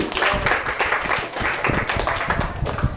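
An audience applauds the debaters at a school debate on violent video games, with dense, steady clapping filling the whole stretch at close range.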